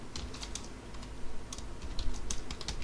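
Java code being typed on a computer keyboard: a steady run of close, crisp key clicks in an uneven rhythm, with no voice over it.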